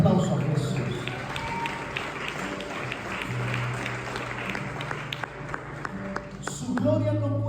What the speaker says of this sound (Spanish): Él ese aplauso a Jesús.